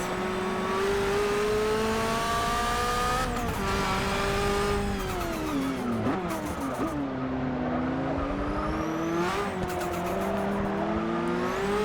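Nissan R91CP prototype race car lapping Silverstone in Forza Motorsport 6, its engine droning loud and steady with rising and falling pitch through gear changes, with brief tire squeal, alone without talk.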